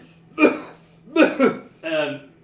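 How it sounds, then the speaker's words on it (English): A few harsh coughs in quick succession, close and loud, with a short pause between bursts and a rougher, throaty cough at the end. "And you start coughing."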